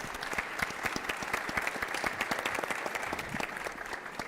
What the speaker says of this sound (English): big applause to our great speakers